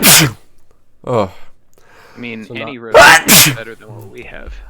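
A person sneezes forcefully at the start, then sneezes twice in quick succession partway through, close and loud, between bits of conversational speech.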